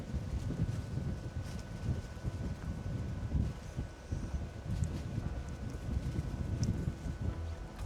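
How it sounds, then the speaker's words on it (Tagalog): Strong wind gusts buffet the microphone at a lakeside campsite in Cavinti, Laguna, coming in low rumbling surges with faint rustling between them. "Lakas ng hangin ngayon."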